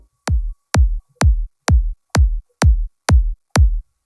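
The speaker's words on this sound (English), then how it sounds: "So starting off with the punch," Punchy electronic kick drum layer for a big room dance drop, with EQ-boosted high-end click: eight evenly spaced hits, each a sharp bright attack dropping into a short low thump, loud and alone.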